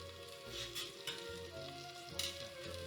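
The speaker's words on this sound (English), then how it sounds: "Gonna keep that sauteing with the heat nice and high." Greens and beans sautéing over high heat, a soft continuous sizzle with brief brighter bursts as the pan is tossed or stirred, close and fairly quiet, no voices.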